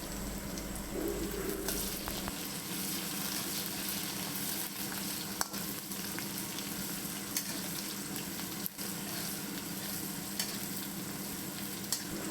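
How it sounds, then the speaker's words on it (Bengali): Whole spices stirred and frying in hot oil, a continuous soft sizzle with occasional clicks of a spatula against the pan, steady and fairly quiet throughout. "এবার আমি গোটা মশলা রেখেছিলাম সেগুলো দিয়ে দিচ্ছি, দিয়ে তেলেতে নেড়ে নেবো মশলাগুলোকে।"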